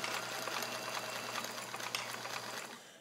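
A Kenmore model 1430 all-metal sewing machine made in Japan runs zigzag stitching at a steady rapid whir with a fast mechanical chatter, close and continuous, slowing slightly at the end.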